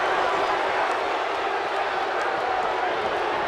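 Arena crowd noise in WWE 2K18 at a Las Vegas tag team match, a steady dense roar of cheering fans filling the whole stretch, loud and continuous with faint commentary-like voices blended in.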